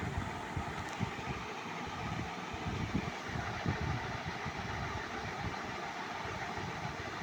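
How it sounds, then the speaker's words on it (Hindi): An electric sewing machine stitches fabric while an old pair of trousers is reworked, giving a steady, low, even mechanical whir and rattle that runs at a constant pace throughout at moderate loudness, with no speech. "निशान तक ही हम यहाँ सिलाई लगाएंगे।"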